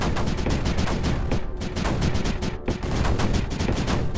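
Rapid, overlapping bursts of mortar fire from a large battery of mortars in the strategy game Creeper World 4, loud and continuous with dense rhythmic booms and barely any gaps.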